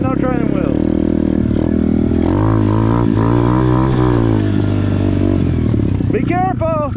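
An Amazon pit bike fitted with an upgraded carburetor being ridden close by, its engine droning loudly with rising and falling revs throughout, while people talk over it.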